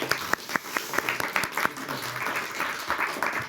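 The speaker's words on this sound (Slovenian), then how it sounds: "To pa jaz dam aplavz." A small studio audience applauds briefly, a burst of crisp scattered claps lasting a few seconds, close and moderately loud.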